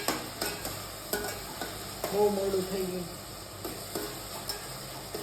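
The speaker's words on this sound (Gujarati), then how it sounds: "તો સૂકી ભાજી આપણે વઘારવા માંડીએ" Vegetables for a dry sabzi sizzle as they are tempered in hot oil, with occasional utensil taps and stirring, while a person talks briefly over the cooking.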